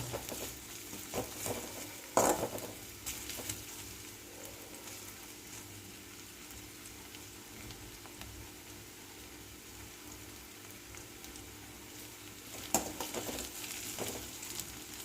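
Onions sauté in a pan for a potato fry, a soft continuous sizzle with occasional louder stirring scrapes, quiet and close, with no one speaking.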